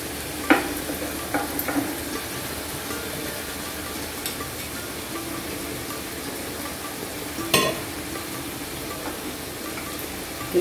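Poppy seed and mustard paste sizzles steadily in a hot pan, a soft continuous frying hiss broken by a few sharp clinks and scrapes of stirring.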